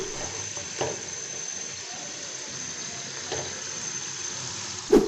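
Okra (bhindi) frying in oil with a soft, steady sizzle and a few faint clinks from stirring, ending in a short sharper clatter.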